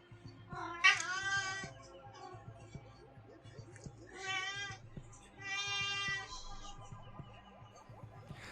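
A small female cat meows three times, long drawn-out and fairly close, with quiet pauses between calls against a faint background.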